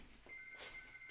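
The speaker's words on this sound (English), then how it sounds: "wait a minute for my phone is ringing" A phone rings faintly in a quiet room, a thin high electronic tone holding steadily through the short moment with no talk over it.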